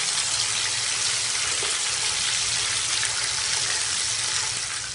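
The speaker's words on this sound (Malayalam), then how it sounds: "തിരിച്ചു മറിച്ചിട്ട് ഫ്രൈ ചെയ്തെടുക്കുക." Chicken legs fry in a pan over low flame, a dense, continuous hissing sizzle that stays steady and loud for the whole stretch with no voices.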